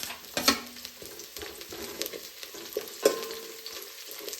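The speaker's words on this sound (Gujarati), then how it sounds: "ડુંગળી અને મરચાંને બરોબર શેકાવા દઈશું" Onions and green chillies sauté in a pan with garlic, a steady sizzle broken by scraping stir strokes near the start and again midway, close and moderately loud with no talking.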